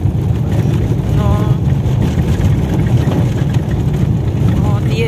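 A car drives along a forest road on the way back from a village, a constant low engine and road rumble heard from inside, steady throughout.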